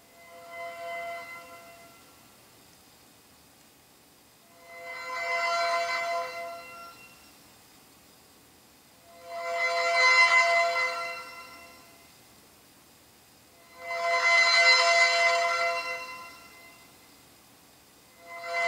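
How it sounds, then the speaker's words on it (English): Progressive Dapple, a stock ringtone on a ZTE Open phone running Firefox OS, plays as four bell-like chime bursts spaced about every four and a half seconds, each louder than the last, with quiet gaps between. "The next one is Progressive Dapple."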